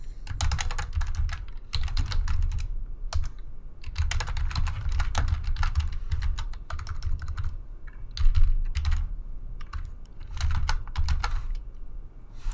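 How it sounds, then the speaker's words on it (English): Close, continuous keyboard typing while an email signature is entered in Outlook Web App, a dense stream of crisp key clicks coming in quick bursts with short pauses and no voices. "I'm just gonna type it in."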